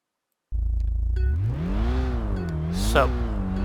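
In the Kaido Racer 2 video game, a car engine revs hard while drifting around corners at Hakone, with a loud continuous drone that rises and falls in pitch, plus a brief screech near the end.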